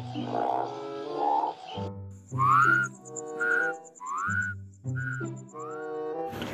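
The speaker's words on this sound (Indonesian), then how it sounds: "kodok teman-teman." Frog croaking in the video game Jurassic World Evolution 2, a series of close, tonal, rising whistle-like calls repeated in a quick uneven rhythm, with a short buzzy chirp near the end.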